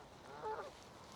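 Geese honk on a trout fishing lake, a single short call rising briefly out of quiet open-air background.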